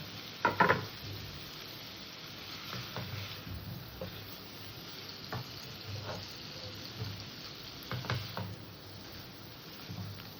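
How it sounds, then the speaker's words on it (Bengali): Fried potatoes and cauliflower drop into a hot pan and sizzle quietly and steadily, with a sharp clatter as they go in and a few scattered scrapes and taps of stirring. "ভেজে রাখা আলু আর ফুলকপিটা দিয়ে দিলাম"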